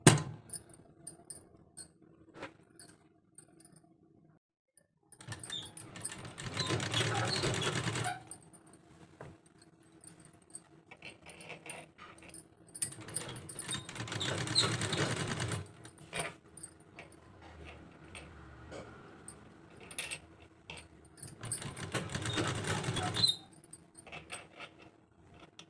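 Sewing machine stitching a folded neckline strip on a kurti, running in three sustained bursts of several seconds each with quiet pauses between, fairly close and steady.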